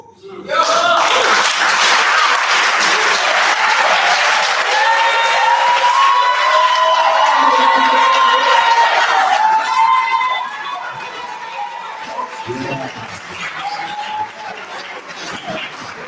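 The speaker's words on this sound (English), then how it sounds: "Actually, you deserve a standing ovation. Blessings. Applause." A crowd claps and cheers loudly for several seconds, with voices and chatter rising through it before the applause fades and talk continues.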